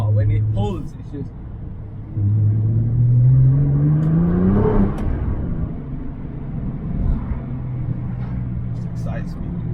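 A Nissan GTR R35 accelerates hard from inside the cabin, its engine note sweeping steadily upward before a gear change drops it back, loud and close, with a voice speaking over parts of the run.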